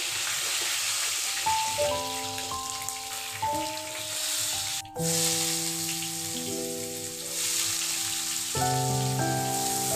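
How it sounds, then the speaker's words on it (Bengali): Onion frying in hot oil in a pan, a soft continuous sizzle heard close, layered under steady sustained tonal music. "ভালো করে পেঁয়াজটা ভেজে নেব।"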